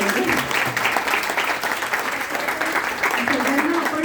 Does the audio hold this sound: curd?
no